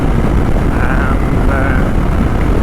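A KTM 790 Adventure R motorcycle accelerates toward about 120, its engine drone buried in a loud, constant roar of wind buffeting heard from the rider's position.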